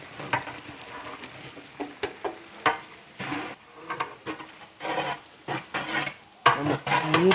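Onions fry and get stirred in a large pot for mutton biryani, giving a close, busy crackle broken by repeated scraping strokes with no voices.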